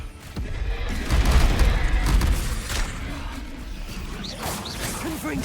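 Confringo fire-blast spells in Hogwarts Legacy combat, a dense stretch of booming impacts, whooshes and crackling explosions with layered battle effects and scattered creature cries, loud and continuous.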